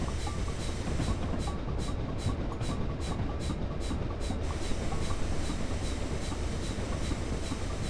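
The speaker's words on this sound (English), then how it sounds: "There's another train gone past." A train rolls past in the Train Simulator 2015 video game, with a steady rumbling hiss and regular clicking rail beats near the start, fading slightly later, with no talking.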